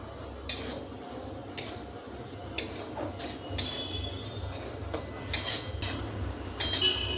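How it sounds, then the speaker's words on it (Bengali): Semolina dry-frying in a heated kadai over low heat, stirred with a metal spoon: repeated sharp scrapes and clinks against the pan over a faint steady background, close and without speech. "এবার আমি সুজিটা দিয়ে দেব। হালকা আঁচে 2 মিনিট মতো ভেজে নেব।"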